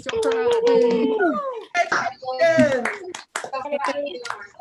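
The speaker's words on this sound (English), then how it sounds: "let's give everybody a round of applause" Applause for 2020 PhD and DNP doctoral graduates at a virtual hooding ceremony held over a video call: scattered clapping mixed with cheering voices and overlapping talk throughout.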